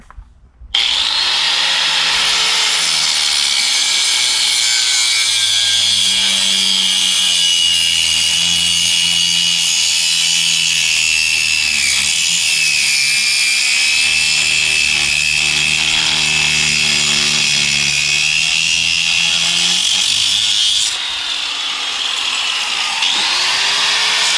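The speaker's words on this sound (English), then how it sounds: "they're gonna cut that off the idler arm bushing there" A power saw cuts the idler arm bushing off a 1955 Chevy's steering linkage on a workbench. The sound is a loud, continuous high-pitched whine with grinding, lasting about twenty seconds, then it eases off briefly before it ends.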